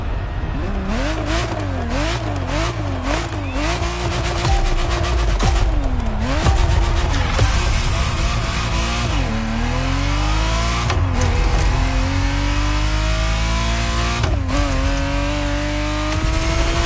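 Ferrari Testarossa engine in The Crew Motorfest revving hard through repeated rising and falling sweeps, pitch climbing then dropping with gear shifts, loud and continuous with no voices.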